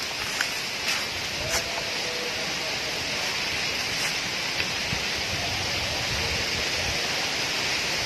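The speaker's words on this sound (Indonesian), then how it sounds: "Ini suasananya, anginnya sangat besar sekali" Strong wind roaring steadily across a hilltop excavation site, a broad continuous rush with occasional gusty buffets close to the microphone.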